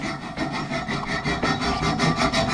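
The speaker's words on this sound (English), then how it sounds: "Harry using a hacksaw backwards." A hacksaw cuts through a trike axle in rapid, regular rasping strokes, close and steady for a couple of seconds with no voices.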